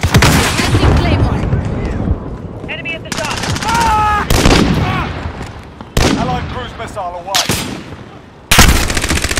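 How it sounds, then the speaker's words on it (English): A sentry gun in Call of Duty: Modern Warfare firing loud, close rapid bursts that start and stop repeatedly, with explosions and voices mixed between the volleys. "friendly sentry gun online"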